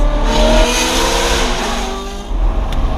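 Straight-piped Ferrari F430 driving beneath an overpass, its loud, raw engine note echoing off the concrete and holding steady throughout, with a brief surge near the end.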